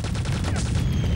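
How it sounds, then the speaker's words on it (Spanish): Rapid gunfire in Quake 2 rattles in a dense, continuous burst aimed at the player, loud and close for about a second. "Me está disparando."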